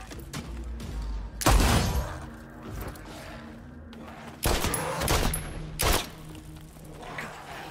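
Gunfire in the open-world survival crafting game Nightingale: a few loud, sharp shots with booming tails spaced across several seconds, separated by quieter game ambience.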